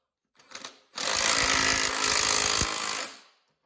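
A 1970s Black and Decker corded push mower, left unused for over 20 years, spins its spindle with a brief whir. A loud steady electric motor whine then runs for about two seconds before winding down.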